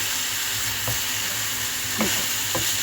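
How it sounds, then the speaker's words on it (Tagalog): Ground meat for Filipino giniling sizzles in a pan as cherry tomatoes go in, a steady close frying hiss with a few soft stirring knocks, with no talking. "lalagay ko yung cherry tomato"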